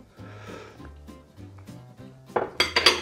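Cutlery and dishes clink and rattle briefly while someone searches for a small spoon, a few light metallic knocks building to sharper clatters at the end, with faint breathy vocal noises.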